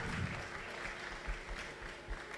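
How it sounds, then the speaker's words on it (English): Audience applause for a guest speaker at a mentorship and entrepreneurship networking event, a steady wash of clapping at moderate distance with a few louder low thumps, no talk over it. "Round of applause, ladies and gentlemen, for our incredible speaker"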